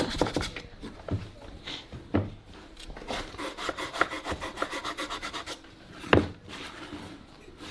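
A small wooden piece is sanded by hand with sandpaper, giving close, dry rasping strokes in quick irregular bursts, some louder scrapes standing out against a quiet room.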